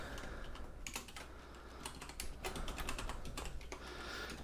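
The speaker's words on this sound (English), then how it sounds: "So if I click on this, I can then just type in my email address" Rapid, uneven clicks of a computer keyboard as an email address is typed, coming in quick bursts with brief pauses, close by and fairly quiet, with no voices.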